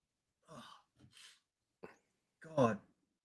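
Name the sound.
sneeze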